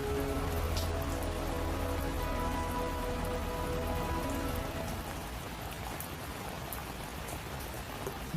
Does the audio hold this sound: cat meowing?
no